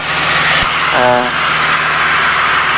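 Steady drone of a light aircraft engine cruising at about 2,300 RPM and 120 knots after departing Biggin Hill, a constant close cabin roar with a brief tonal whine partway through.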